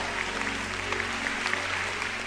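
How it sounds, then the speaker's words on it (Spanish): Loud, sustained clapping from a church congregation, a continuous dense patter close by with no talk over it. "Vamos a aplaudir fuerte al Señor Jesús"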